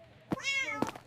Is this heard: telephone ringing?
no